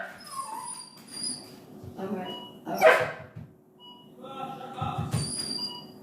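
A pet dog barks and whimpers indoors after a doorbell, loud bursts scattered across the clip, with someone speaking over and between the barks.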